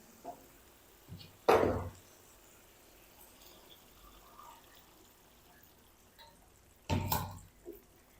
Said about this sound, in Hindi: अब इसके अंदर ऐड करेंगे 2 कप पानी